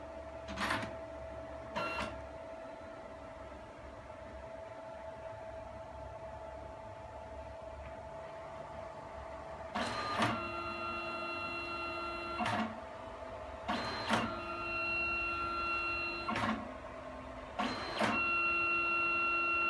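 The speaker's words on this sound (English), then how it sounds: "Then the machine will resume printing." A Mitsubishi Smart Kiosk photo printer runs steadily with a constant mechanical hum, punctuated by a series of sharp clicks and ticking bursts repeating every few seconds as the print advances.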